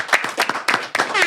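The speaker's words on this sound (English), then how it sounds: "Are we clapping it up for Fill Up the Dome?" Clapping during a podcast-style talk show, a few quick bursts of hand claps in close succession, brief and near.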